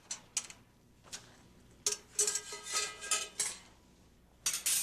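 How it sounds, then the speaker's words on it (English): Metal cake pan clattering against a wire cooling rack as it is lifted, a few sharp clanks and taps spaced out with quiet gaps, close and moderately loud. "Lift off the cake pan"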